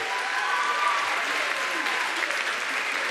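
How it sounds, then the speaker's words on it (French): An audience applauds at the 2018 Miss Guyane pageant, a dense, even roar of many hands clapping at moderate loudness, sustained without break. "Merci de l'applaudir"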